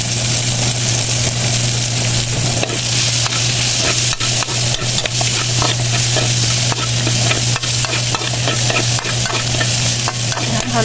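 Onion and garlic sautéing in oil, a loud continuous sizzle with a constant low hum underneath and quick, regular stirring clicks throughout.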